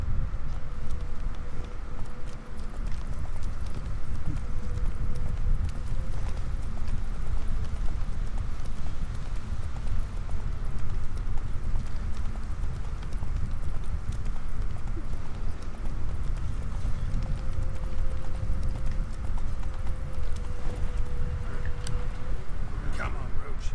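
Hooves of a horse clip-clop steadily through boggy terrain in the video game The Witcher 3, a continuous rhythmic patter beneath ongoing talk from a player.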